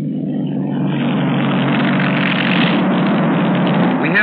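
A Douglas DC-3 propeller airliner in Colombia taking off, a loud steady drone of piston engines and propellers that rises gradually as the plane gathers speed.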